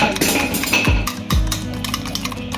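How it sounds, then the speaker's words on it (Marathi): Close, squelchy mashing and scraping of banana in a bowl, with utensil knocks and dull thuds repeating unevenly for a couple of seconds. "केळ छान फेटून घ्यायचं, मॅश करून घ्यायचं"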